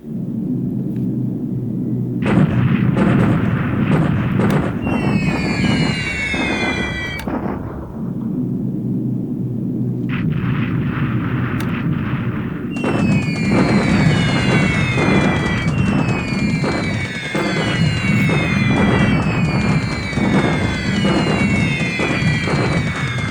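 Bombs exploding in the World War II video game War in the Pacific: repeated loud, rumbling blasts rolling over one another in long bursts, with whistling descending tones over the booms and no one talking.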